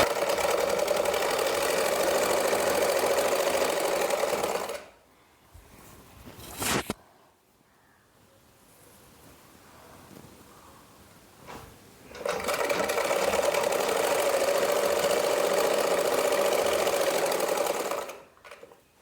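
Sewing machine stitching a folded hem on a kitchen apron, running in two steady, fairly loud bursts with a quiet pause between, where fabric is handled and a single sharp click sounds.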